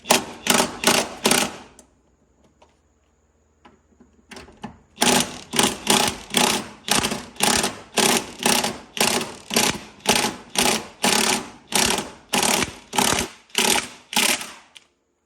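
Rapid bursts of an impact gun hammering at bolts, a few short runs, a pause, then a long series of loud rattling bursts close by.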